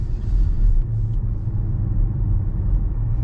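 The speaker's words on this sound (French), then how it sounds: "Mais il y a le beau bruit du V8." A 2009 Cadillac STS with a 4.6-litre V8 cruising, its engine a steady low rumble heard from inside the cabin, holding an even drone with slight swells and no sharp revving.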